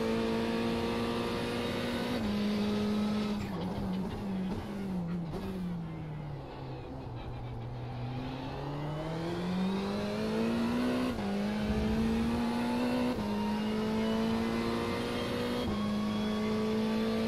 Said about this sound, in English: Oh no, I'll keep the engine noise, no doubt about that, I won't turn it off.